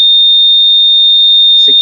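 Buzzer on a magic gun conductor tester, pointed at a test material with the trigger squeezed, gives one loud, steady high-pitched tone lasting almost two seconds, ending with a brief burst of speech.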